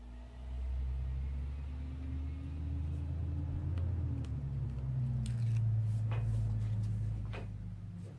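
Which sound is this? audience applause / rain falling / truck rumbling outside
truck rumbling outside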